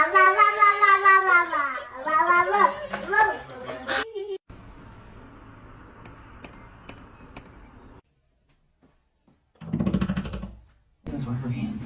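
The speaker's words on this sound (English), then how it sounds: "It's okay, it's just a kitty kitty." Domestic cat meowing in several drawn-out, wavering cries near the start, followed by a quieter stretch with faint ticking, then short bursts of other sound; a person talks in the clip.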